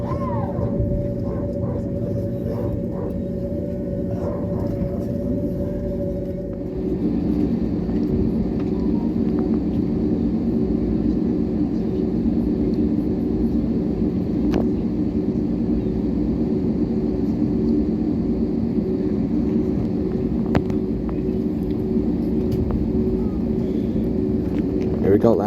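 Cabin noise aboard a Cebu Pacific Airbus jet on the Iloilo to Manila route, a loud steady low roar and hum that swells as engine tone shifts partway through, with occasional faint voices and clicks.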